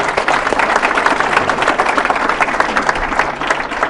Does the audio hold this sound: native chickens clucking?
no